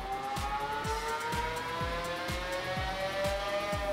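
A stock 2015 Ford F-150 with the 5.0L V8 on 93 octane roars through a dyno pull, its loud steady engine note climbing in pitch with repeated rhythmic thumps from the rollers beneath, no voices present.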